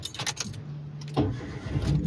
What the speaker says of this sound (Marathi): गाडी start, go for a drive